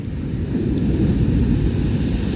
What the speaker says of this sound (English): Oh, these waves are big.